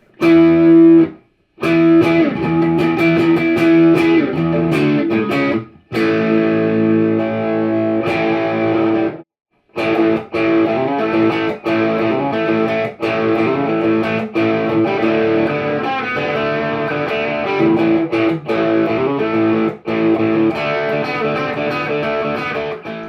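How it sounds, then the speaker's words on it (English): An electric guitar played through a Positive Grid Spark amp with the drive fully cranked, giving loud, saturated distorted chords and sustained notes. They ring in bursts separated by brief silences, with no talking. "Let's crank it. The drive is cranked."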